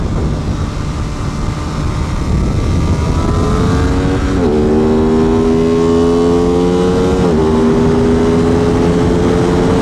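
An Aprilia RS660 sport motorcycle at full throttle on a race track, heard loud from onboard: the engine note climbs steadily and keeps rising through quick gear changes over a constant rush of wind.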